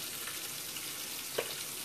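Fresh fish frying in hot oil, a steady broadband sizzle filling the whole stretch with one brief louder pop or crackle near the end.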